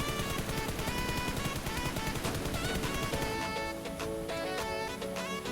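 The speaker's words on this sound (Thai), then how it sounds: "เดี๋ยวผมจะ ยิงให้ดูนะครับผม" Rapid automatic gunfire from the mobile battle royale game PUBG Mobile rattles loud and continuous, easing into sparser single shots near the end, with game effects underneath and no voices.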